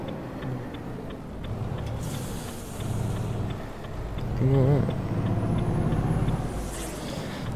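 A truck engine drones steadily in Euro Truck Simulator 2, a low continuous rumble with a brief hiss like an air brake midway and faint ticking on top.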